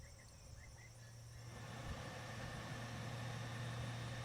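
A replacement blower motor in a Lexus GX470 runs with a low, steady hum that swells slightly after starting, quiet and even with no talking.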